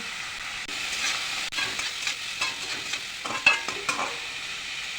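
Bitter gourd and potato slices frying with salt and turmeric in a wok, stirred occasionally; a steady hissing sizzle with a few sharp scraping knocks of the spatula, close by.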